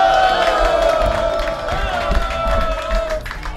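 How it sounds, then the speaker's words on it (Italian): Diners at a restaurant event break into clapping and cheering, a lively crowd burst with whoops and shouts layered over the applause, fairly loud and close, settling slightly toward the end. "Fateli un applauso, dai."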